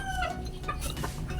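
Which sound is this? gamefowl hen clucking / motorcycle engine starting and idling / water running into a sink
gamefowl hen clucking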